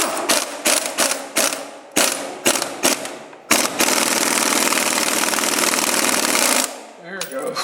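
A socket wrench ratchets on a stuck bolt of a Chevy 350 engine, giving a close run of sharp repeated clicks, followed by a sustained loud mechanical whirring rattle that cuts off near the end.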